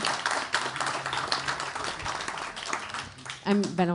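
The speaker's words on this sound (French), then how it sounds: "je vous l'encourage à l'applaudir" Audience applause at an evening event on men's engagement for gender equality, scattered clapping mixed with voices talking, and a brief tonal sound near the end.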